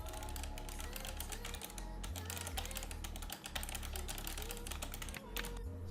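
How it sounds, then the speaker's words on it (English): A Razer Ornata mecha-membrane keyboard is typed on in rapid, crisp clicking bursts with brief pauses, close and clear, under a steady low background hum. "I was actually surprised with the crisp, tactical mechanical click that they produce"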